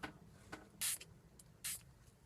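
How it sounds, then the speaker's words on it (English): Two short hissing bursts of an aerosol spray, close and crisp, separated by a pause with faint tapping around them. "I'm just going to spray these on"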